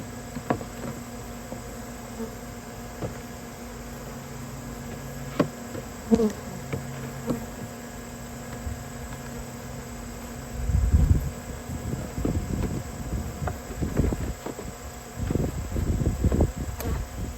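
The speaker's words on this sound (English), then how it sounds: "Got a couple angry bees mad at me." Angry bees from a large open-air hive buzz close by over a steady hum, their droning growing louder and more agitated toward the end.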